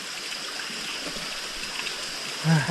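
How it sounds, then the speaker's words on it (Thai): Steady broadband rush of flowing stream water fills the clip, with a brief louder low gurgle near the end. "เสียงน้ำไหลแรงๆนู่น"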